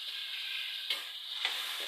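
Bitter gourd sizzles steadily in a pan with sautéed shrimp, a constant bright frying hiss with a couple of soft stirring scrapes.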